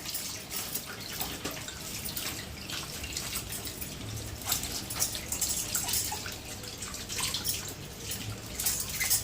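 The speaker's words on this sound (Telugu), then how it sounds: "ఇంకా శుభ్రంగా అయితే కడిగేస్తాను నీట్గా అయితే" Fresh corn cobs being washed by hand in water, with continuous splashing, dripping and swishing close by and no talking.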